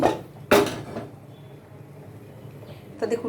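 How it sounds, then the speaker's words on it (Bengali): A metal kadai set down on a kitchen stove gives sharp clanks and knocks, one loud bump near the start and another at the end, with quieter handling between. "কড়াই বসিয়ে দিয়েছি"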